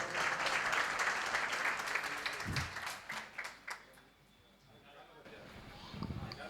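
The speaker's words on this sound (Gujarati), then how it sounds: "મિત્રો, વસંતભાઈને તાળીઓથી વધાવો." An audience at a live Gujarati comedy show bursts into loud, dense applause to welcome a performer, the clapping fading after a few seconds into a quieter room with scattered claps and talk.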